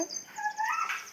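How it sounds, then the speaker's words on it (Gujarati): Peacock calling outdoors in a village where buffalo and cows are kept, a pair of clear, rising tonal cries that ring out at moderate distance with no talk over them. "તો કઈ અહીંયા છે ને મોર બોલે છે"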